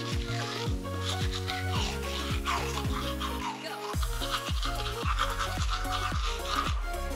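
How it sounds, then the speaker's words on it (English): A soft-bristle toothbrush scrubs teeth fitted with braces, producing close, continuous wet brushing and rasping strokes in a fast back-and-forth rhythm, with no talk. "And as I brush my teeth, I'm actually putting these bristles between the brackets and gently brushing them."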